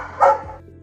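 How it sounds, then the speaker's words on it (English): A dog shut in a crate gives one short, sharp bark, close and loud. "while your dog is barking at you"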